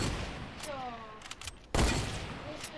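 A sniper rifle shot fires in a video game: one sharp, loud crack partway through, after quieter game noise and a faint voice.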